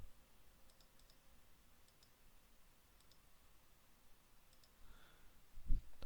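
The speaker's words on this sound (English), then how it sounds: "I don't know why I was clicking in there. I don't need to click in there." Faint, quick computer mouse clicks in small pairs and clusters while playing Mini Metro on the New York map, spread across quiet background, with one louder bump near the end.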